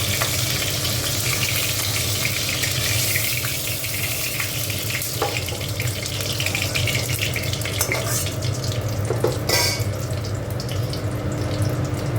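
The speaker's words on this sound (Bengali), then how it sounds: "ফুলকপিটা একটু ভেজে নিই, একটু ভালো করে ফুলকপিগুলো একটু ভেজে নিলাম" Cauliflower frying in hot oil in a pan, a steady loud sizzle that runs unbroken throughout, with occasional scraping and stirring clicks.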